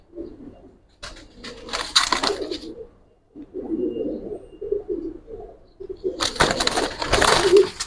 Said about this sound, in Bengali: দেখেন মাদি কবুতর।